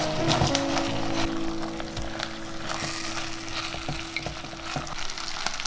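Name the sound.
stir-frying rice with pork ribs and oyster sauce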